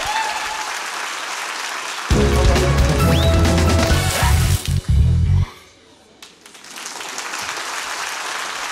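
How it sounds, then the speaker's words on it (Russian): Loud, dense applause from a comedy club audience bursts in and holds for about three seconds, then cuts off abruptly, leaving quieter room ambience. "Ваши аплодисменты."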